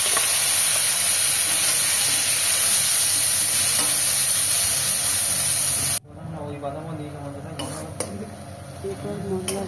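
Cumin seeds fried in hot oil with ground spice paste added give a loud, dense sizzle and hiss for about six seconds, then cut abruptly to quieter crackling and stirring.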